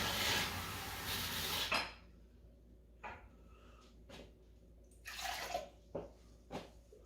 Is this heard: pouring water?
yes